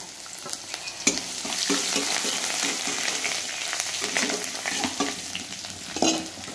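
Chopped ginger stirred and fried in a hot pan, a continuous crackling sizzle broken by repeated scraping strokes of a spatula, with a sharper clack near the start and another near the end.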